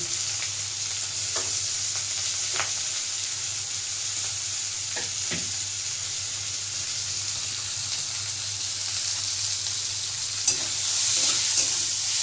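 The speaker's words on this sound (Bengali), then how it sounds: "রসুনটা ভাজা ভাজা হয়ে এসছে, কাঁচা লঙ্কা দিচ্ছি, পেঁয়াজ কুচি দিচ্ছি।" Green chilli and chopped onion fry with garlic in oil for a Bengali bhola fish curry, making an even, continuous sizzle up close, with a few soft clinks from the pan.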